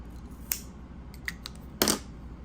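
Scissors make a couple of quick, crisp snips through a yarn tail during crochet work, faint, close and isolated against a quiet background.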